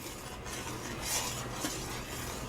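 Pepper jelly at a rolling boil is stirred in a pot, a low bubbling hiss with light spoon scrapes and a faint clink, fairly quiet and close.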